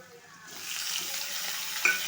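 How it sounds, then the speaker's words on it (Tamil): Tomatoes tipped into sautéed onions in a frying pan, a hiss that swells into a steady close sizzle with a small clink near the end. "வெங்காயம் வதங்கிருச்சு. இப்போ தக்காளி சேர்த்துக்கிடுவோம்."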